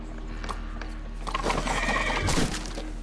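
A horse whinnies in the Sherlock Holmes: The Devil's Daughter video game, a loud, close neigh swelling in the middle over hoof clatter and a steady low game background hum.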